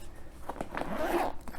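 A zipper on a pocket of a Milwaukee tool and laptop backpack slides open in one quick, close, fairly quiet pull with a few ratchety bursts.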